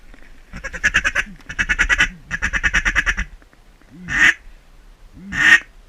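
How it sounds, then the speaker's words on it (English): Shoveler ducks quack close by in rapid rhythmic runs, followed by two louder single calls after a short pause, during a duck hunt in Arkansas. "I have no idea where these ducks came from."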